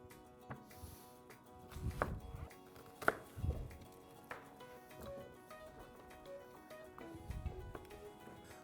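Onion and other vegetables, including squash, are being chopped on a board in a kitchen, with several irregular knife thuds spread across the clip and a soft musical background behind them.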